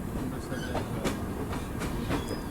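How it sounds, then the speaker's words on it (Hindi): Express passenger train, the Jammu Tawi–Patna Archana Express, rolling past with a steady rumble and rhythmic clickety-clack of wheels over rail joints, heard continuously from close by throughout. "और सामने आई है जम्मू तवी पटना अर्चना एक्सप्रेस"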